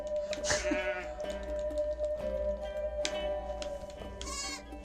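Goats bleat in the city-building video game Sumer, giving a few short, wavering cries over a steady droning background and soft clicking.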